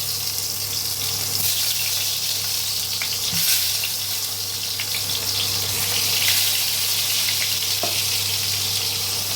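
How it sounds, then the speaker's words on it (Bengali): Eggplant pieces fry in hot oil in a wok with a constant, close sizzling hiss, occasional pops and clinks over a low steady hum. "এবার বেগুনগুলোকে একটু লাল করে ভেজে নেব।"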